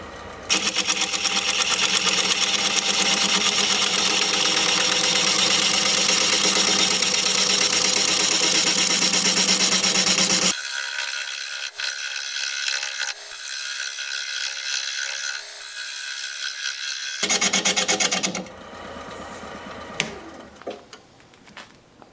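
Gouge cutting very hard wood on a wood lathe, a loud continuous rasping whir that drops off abruptly midway, then resumes in rougher bursts before fading, with no talk over it.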